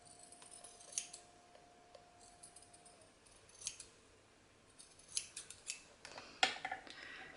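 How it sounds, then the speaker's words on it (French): Scissors snip through paper while a photo album is being made, giving a series of quiet, irregular close-up cuts and crisp slicing sounds with short pauses between them, and no voices. "Je vais essayer de découper un petit peu plus droit."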